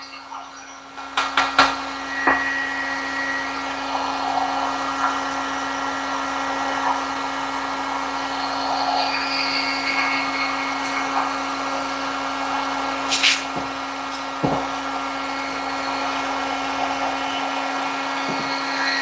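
Powder coating equipment in a jig-making shop hums with a steady mid-pitched drone, broken by occasional clicks and brief bursts, fairly faint and continuous.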